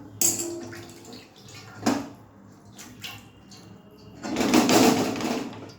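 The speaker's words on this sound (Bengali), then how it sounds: "এই যে দেখো জলটা দিয়ে দিলাম, খুব অল্পই জল দেবো।" Water is poured into a cooking pan in a brief, splashing gush near the end, preceded by a few light clinks and taps of utensils in a quiet kitchen.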